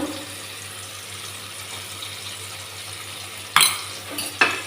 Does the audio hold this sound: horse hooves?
no